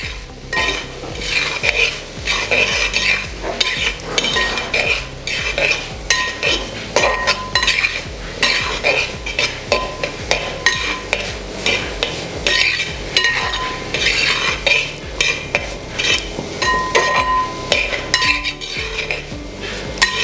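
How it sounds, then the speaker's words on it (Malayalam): Fish egg thoran with grated coconut stirred in a pan, a continuous run of close, loud spatula scrapes and metallic clinks against the pan over a light sizzle, with no one talking. "നന്നായി ഒന്ന് മിക്സ് ചെയ്തെടുക്കാം."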